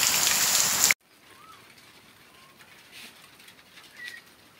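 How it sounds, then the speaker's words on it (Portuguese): Rain falling during an afternoon shower in Garaci, a dry caatinga region in northeastern Brazil. A loud burst of rain opens the clip and cuts off within a second, leaving soft patter with faint bird sounds. "Uma boa chuva nesse momento em Garaci."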